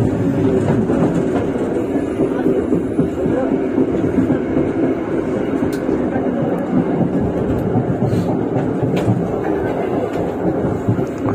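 At Mojokerto a train takes the diverging track at speed, giving a loud continuous rumble with clattering wheel clicks close by, and someone talks over it.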